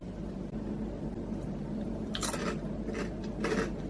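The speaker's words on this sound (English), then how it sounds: "Let's try rice crackers with seaweed." Crunchy seaweed-wrapped rice crackers are bitten and chewed close to the mic, giving a few sharp crunches in quick succession toward the end of a quiet stretch.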